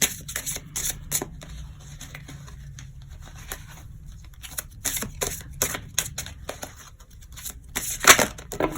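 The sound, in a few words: shuffling tarot oracle cards (mandala energy oracle deck)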